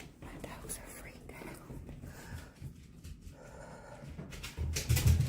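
Frightened pet dogs whimpering and panting nearby in a house, low and restless beneath tense whispered talk, growing a little louder toward the end.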